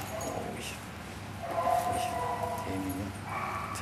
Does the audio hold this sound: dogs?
yes